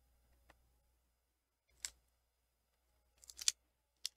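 A few short, crisp snips of non-stick scissors cutting paper for a card at uneven intervals, close by, with quiet pauses between cuts; no talking.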